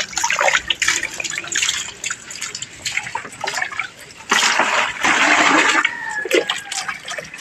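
Water pours and splashes outdoors while a pig is being bathed, an uneven gushing stream that surges louder midway, with scattered drips and sloshes.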